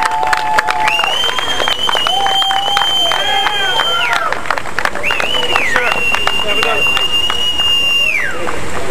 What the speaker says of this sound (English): Let's have a round of applause for our cyclists.